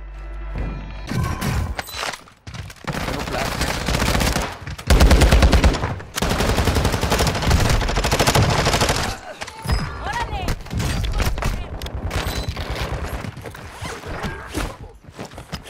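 Video game gunfire with sustained bursts of rapid automatic fire and scattered single shots, loud and close, with brief pauses between volleys and occasional mechanical clicks.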